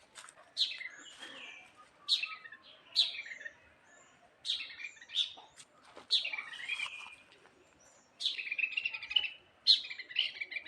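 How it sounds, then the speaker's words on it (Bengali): Birds call repeatedly in a jungle, with short, bright chirping phrases coming in irregular bursts at moderate distance against a quiet background. "মনে হচ্ছে পাখির ডাক"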